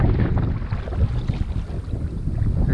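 Gusty wind rushes over a river while kayaking, a dense, continuous low roar buffeting the microphone with no voices.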